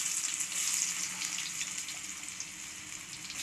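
Continuous crackling sizzle of yam slices frying in hot oil, steady and fairly close, with no voices.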